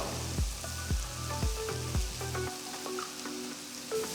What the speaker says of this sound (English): Saute the onions till they turn to a nice golden brown color.